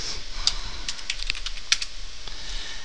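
Router configuration commands being typed on a computer keyboard: a steady run of light, close key clicks with a few sharper strikes, alone with no voices.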